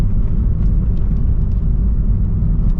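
Mitsubishi 3000GT VR-4 engine droning steadily while driving, a loud continuous low rumble with faint higher whine, no talk.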